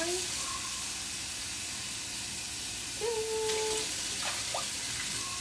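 Water poured into a pot or cup for cooking in a home kitchen, a steady rushing hiss throughout with a short tonal squeak or two partway through.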